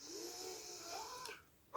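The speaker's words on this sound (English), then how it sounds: "Taking that big deep breath." One big, slow, deep breath is drawn in close to the microphone, a quiet, airy and slightly wheezy rush lasting over a second before it fades, with no talking.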